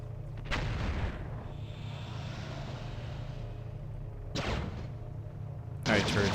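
Turrets fire in a space combat video game: booming, cannon-like blasts with rumbling roars, a loud burst near the start and more sharp shots toward the end, over a continuous low engine drone.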